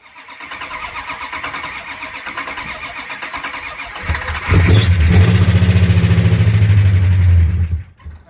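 A car engine cold starting with a failing, weak start: several seconds of loud rhythmic starter cranking, then the engine catches into a rough, deep idle for a few seconds before cutting out abruptly.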